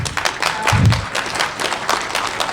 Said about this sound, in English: I'll tell her you clapped